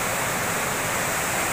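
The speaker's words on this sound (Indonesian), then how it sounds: "sebetulnya kita ada dua air terjun ini sebelahnya" Steady broadband rush of a natural waterfall at Watu Krapyak, running with low flow, constant and close with no voices over it.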